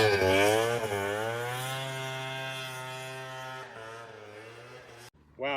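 A 1990s Ski-Doo XLT triple-cylinder snowmobile engine drones at a high, steady pitch, rising then settling into a sustained whine for about five seconds before cutting off abruptly, loud and close.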